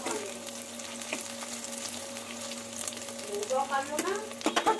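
Soybean chunks fry in hot oil with a soft, steady sizzle close by, joined near the end by louder stirring and scraping clatter in the pan, under a faint background hum.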